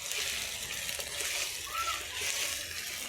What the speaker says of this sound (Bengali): রসুন বাটা দিয়ে হালকা ভেজে নিচ্ছি।